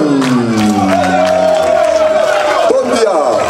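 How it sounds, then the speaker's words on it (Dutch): Crowd cheering and whooping for a reserve goalkeeper at a football team's player presentation, loud and continuous with shouts and a rising tonal wail over it, some voices through. "Mijn applaus voor de reservedoelman Dion."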